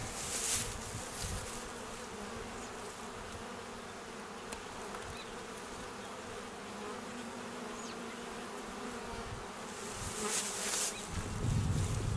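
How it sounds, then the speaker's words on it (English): A docile swarm of honeybees hums around a hiving trap in a dense, steady buzz, with brief louder passes as individual bees fly close near the start and end. "This is a nice docile group of bees."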